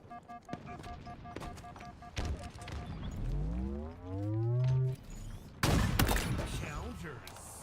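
Gunfire in Halo during a sniper match, with sharp shots and impacts scattered across the clip, a bright burst near the end, under background game sounds and voice-like tones.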